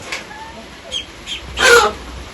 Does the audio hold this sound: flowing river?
no